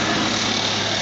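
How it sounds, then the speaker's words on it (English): A noisy golf cart engine drones loud and close in a constant, rough mechanical roar with no pauses or talking across the short stretch. "We've got the noisiest golf carts in the world where I live."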